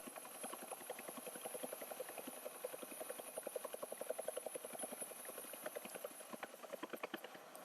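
Rotor blades of a UH-1H Huey helicopter in a flight simulation game thump in a rapid, even beat over a constant turbine whine, steady and moderately loud with no voices.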